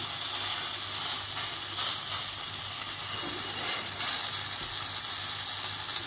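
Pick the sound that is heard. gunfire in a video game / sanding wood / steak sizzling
steak sizzling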